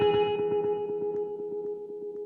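Guitar through a Strymon Volante delay set for a ping-pong effect, a plucked note sounding alone and repeating in rapid, even echoes that bounce and slowly fade over a couple of seconds.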